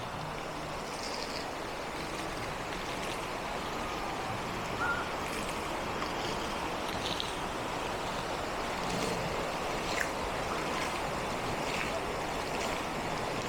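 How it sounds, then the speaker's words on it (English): Splashing water from a fountain feature at Epcot, Orlando, a steady broadband wash of falling and spraying water heard close and continuous, with no talk over it. "Now this is a water feature."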